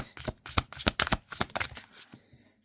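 A deck of tarot cards is shuffled up close in a quick run of crisp riffling bursts and soft slaps, then tapers off into quieter handling at the end, with no voice.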